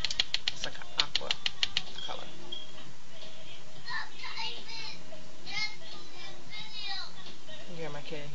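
Rapid, evenly spaced keyboard typing clicks at close range in the opening two seconds, followed by someone talking and background chatter.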